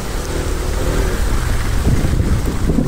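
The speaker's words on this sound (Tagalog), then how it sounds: "Grabe ang lakas ng ulan." Heavy rain pours during a motorcycle delivery ride through flooded streets, a dense, loud wash of rain and wind noise buffeting the microphone continuously for a few seconds.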